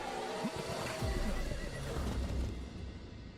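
Horses neigh in a video game, a loud whinny at the start followed by snorting and stamping over a dense, continuous background of game noise.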